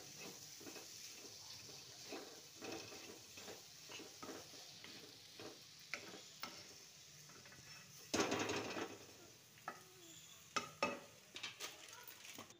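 Corn chaat being stirred in a kadhai with chaat masala and ground roasted cumin, a steady run of soft scraping spoon strokes against the pan, close and fairly quiet, with a few louder clinks near the end.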